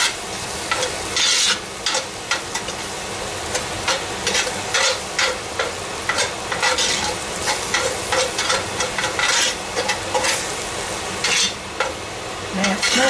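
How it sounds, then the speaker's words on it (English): A spoon scrapes and stirs through venison stew in a cast iron pot in rhythmic, repeated strokes over a soft sizzle, close and clear with no talking. "I'm also going to stir in 3 tablespoons"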